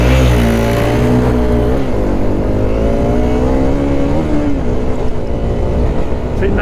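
Dirt motorcycle pulling away hard in first gear on a Pirelli XC Mid Hard tyre, a loud close engine holding a steady, slightly wavering pitch for several seconds with no break in the noise.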